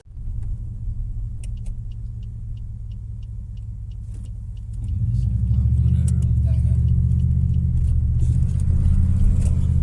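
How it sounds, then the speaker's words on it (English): A Pontiac Grand Prix GXP cruising, heard from inside as a steady low engine drone that swells louder and deeper midway as the car picks up speed. "Alright, so we're out here cruising the GXP."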